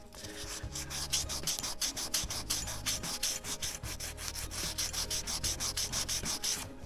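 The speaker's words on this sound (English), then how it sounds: "This is just 220 grit sandpaper." Guitar hardware is rubbed with 220 grit sandpaper in quick, steady back-and-forth strokes, a close, gritty scratching rhythm with no voices.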